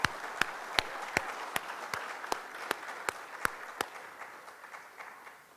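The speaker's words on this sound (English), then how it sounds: "Let's give her a round of applause." Slow, evenly spaced claps ring out sharply at a community awareness-day gathering, about a dozen distinct hits in a steady rhythm that gradually soften and fade toward the end.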